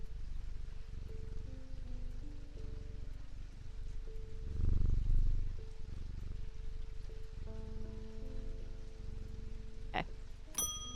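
Soft, low purring comes from a petted cat in the video game Strange Antiquities, faint and continuous under quiet game ambience, with a brief fuller swell midway.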